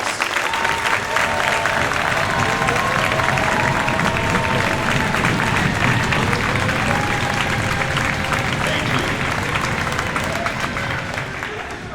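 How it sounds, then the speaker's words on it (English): A large audience at a high school marching band indoor show gives loud, sustained applause for the Band Parent Association, a dense steady wash of clapping with crowd murmur lasting the whole stretch and easing slightly at the end. "could you please stand and be recognized so we can give you a well-deserved round of applause"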